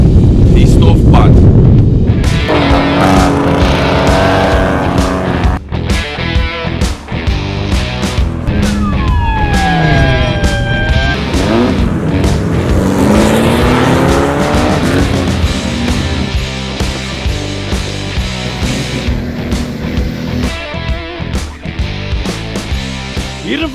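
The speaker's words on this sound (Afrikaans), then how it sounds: "Hier in Van Wyksvlei hoor jy net engines wat brrrr." Race car engines roar and rev at a dirt-road rally event in Van Wyksvlei, loud and close, with rising and falling engine whines passing through a noisy crowd-like background.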